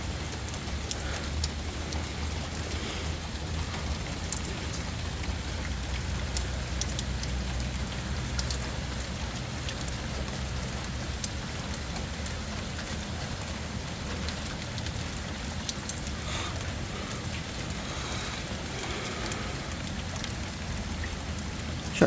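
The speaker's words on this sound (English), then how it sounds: "It's raining, it's raining." Rain falls steadily for a long stretch, a constant dense patter with no break and no voices.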